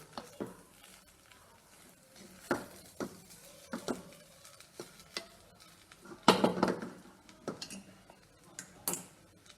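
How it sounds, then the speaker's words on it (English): A spoon stirs methi upma with coconut in a pan on the stove, making quiet scattered scrapes and taps against the metal, with one louder clattering burst partway through. "I'm just giving it a nice mix and turning off the stove."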